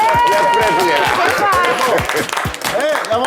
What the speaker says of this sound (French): Et applaudissez-vous, Yves Boris